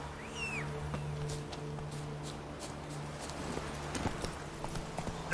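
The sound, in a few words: horse Roach's hooves clip-clopping in a video game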